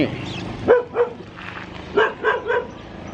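Noey, a small pet dog out for a walk, lets out a handful of sharp, yappy barks in two quick clusters, close by, with a person's voice mixed in around them.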